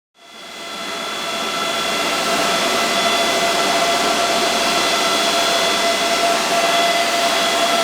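A Kaspa crypto mining rig spins up, its fans rising within a second into a loud, steady roar with a faint whine that holds without letting up.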